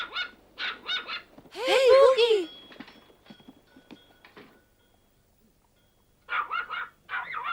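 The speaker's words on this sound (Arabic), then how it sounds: "كف عن النباح." A dog in a barber's shop barks in short bursts, with one loud, drawn-out yelping bark, while people talk over and between the barks.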